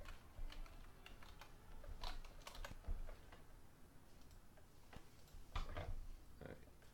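Keys tapped on a computer keyboard while entering a description into a real estate comparables form, heard as irregular bursts of clicks and soft thuds at close range, with faint background noise between strokes.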